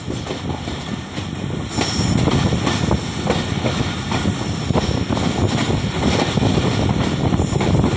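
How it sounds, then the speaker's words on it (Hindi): Jaffar Express passenger train rolling slowly through a station, a steady broadband rumble with clattering wheel-on-rail knocks, growing louder after the first couple of seconds and staying close and continuous with no talk. "स्लो स्पीड में पास हो रही है 40 डाउन जाफर एक्सप्रेस।"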